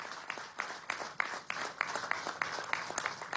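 Applause at a Venezuelan government event with President Maduro inspecting health and school repairs, a crowd clapping in loose rhythm with sharp individual claps standing out, moderately distant and fairly faint, without speech over it.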